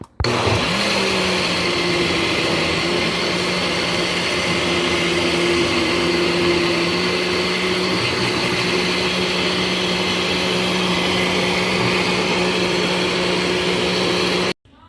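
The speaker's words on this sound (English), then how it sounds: "So here I have the boiled eggplant, and I'm just gonna blend." A kitchen blender whirs steadily while pureeing boiled eggplant, a loud continuous motor drone with a constant pitch that starts abruptly and cuts off at the end.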